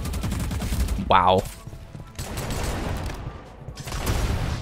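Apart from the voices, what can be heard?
sawed-off shotgun firing in a Roblox FPS video game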